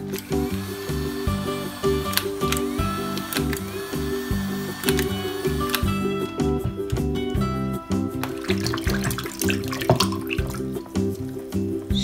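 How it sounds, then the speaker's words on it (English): Bubbling water under a cartoon sea animal, with dense gurgling pops and drips repeating throughout over a steady musical backing. "He needs some bubbles."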